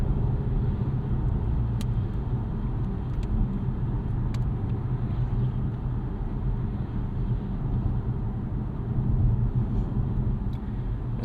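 A 2024 Volvo S60 Recharge T8 plug-in hybrid with 19-inch wheels drives on a rainy day, giving a steady low cabin rumble of road and engine noise with faint ticks, continuous and even throughout, no talking.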